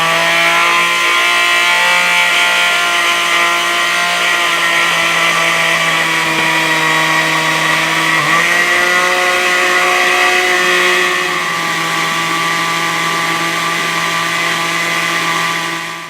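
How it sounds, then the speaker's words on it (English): A blender purees spinach basil pesto with water, a loud, steady motor whine that shifts pitch slightly as the blend thickens, running continuously throughout. "let's get ready to blend, because we're going to add a little water in there."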